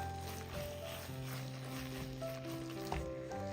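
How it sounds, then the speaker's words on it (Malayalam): An amla and sugar mixture in a pan is stirred over steady low sizzling, with a soft clatter of the spoon near the end and no talking. "ഒന്ന് ഇളക്കി കൊടുക്കാം"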